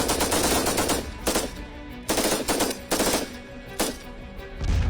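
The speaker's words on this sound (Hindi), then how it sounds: "ताबड़तोड़ गोलियां चल रही हैं" Rapid bursts of automatic gunfire crackle in several long volleys separated by short pauses, loud and sustained.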